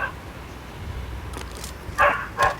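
Dogs barking in a few short bursts toward the end, fairly close, over a low background rumble during a Gujarati BGMI gaming session.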